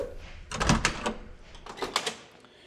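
A door on a 1967 Mustang Fastback S-Code GT is opened and shut, giving a couple of close latch clicks and a solid thunk over quiet room tone.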